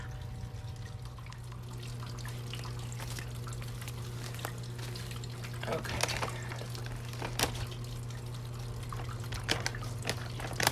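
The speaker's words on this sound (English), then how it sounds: "we'll go fill up with water" Water trickles and splashes steadily into a bucket over a constant low hum, with a brief word spoken partway through.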